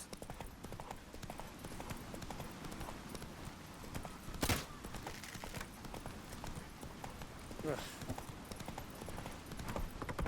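Roach the horse gallops in The Witcher 3, a fast, steady clip-clop of hooves running throughout, with a brief louder burst midway and faint game ambience underneath.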